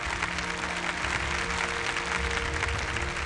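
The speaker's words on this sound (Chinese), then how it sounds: "来，我们起立掌声感谢两位老师" A standing audience claps steadily in a hall, thanking two archaeologists of the Yecheng excavation at a televised archaeology lecture; the applause is dense and sustained, filling the room with no voices over it.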